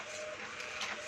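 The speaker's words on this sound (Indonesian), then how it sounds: "Ini tes printnya udah keluar" A printer running off a test page, a steady mechanical whir with a faint tonal hum and small bursts of motion noise, fairly quiet and continuous with no voices.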